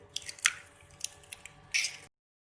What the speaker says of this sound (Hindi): तो अच्छे से हमने मिक्स कर लेना है ताकि सारी चीज़ें अच्छे से मिक्स हो जाएं।